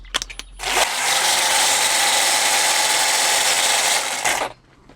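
ONEVAN cordless grass trimmer running with its cutting head rubbing against the guard, a loud, steady high-pitched scraping whine held for about four seconds before cutting off.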